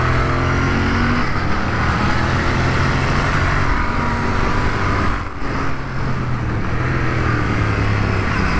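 A Royal Enfield Bear 650 motorcycle's engine runs steadily and loudly up close, a continuous low throbbing drone with shifting pitch and a brief dip midway, with no talking.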